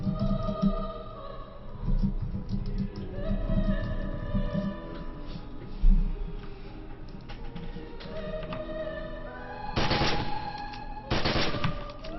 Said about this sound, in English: So that's the assault rifle.